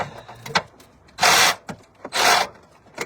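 An electric power tool whirs in two short bursts against a radiator bolt on a 2005 Nissan Murano, with brief clicks and taps of handling before and between them.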